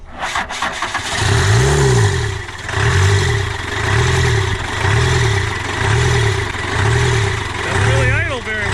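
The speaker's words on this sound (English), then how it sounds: "Just gonna put some ether in there. Let's try to start her." An old rusty engine cranks and fires after ether is sprayed in, its rhythmic low chugging pulses loud and close, then catching and running unevenly; voices are heard near the end.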